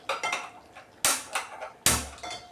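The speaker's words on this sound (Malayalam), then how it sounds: "വേറൊരു പാൻ അടുപ്പത്ത് വെച്ചിട്ട്" A metal pan is set onto a kitchen stove while making mutton kurma, with a few sharp clanks and scrapes of metal on metal, close and fairly loud, the strongest coming near the end, with no one speaking.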